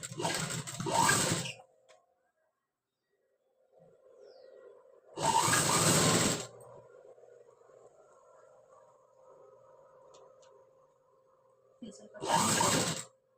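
A sewing machine stitches the back part of a high collar neck in three short, loud bursts separated by pauses, with a faint mechanical hum in between.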